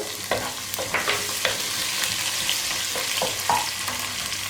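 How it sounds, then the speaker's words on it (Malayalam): Chopped ginger, garlic and green chili fry in hot oil for an egg masala, a steady close sizzle broken by scattered stirring clicks and scrapes, with no voices. "ഈ എണ്ണയിലേക്ക് നമുക്ക് നമ്മൾ ചെറുതായിട്ട് കട്ട് ചെയ്ത് വെച്ചിരിക്കുന്ന ഇഞ്ചി, അതുപോലെ തന്നെ വെളുത്തുള്ളി, പച്ചമുളക്"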